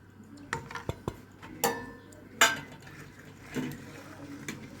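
Rice, milk, sugar, salt and spices stirred with a spoon in a dish, a few scattered clinks and scrapes against the sides over several seconds, close but fairly soft, no talk.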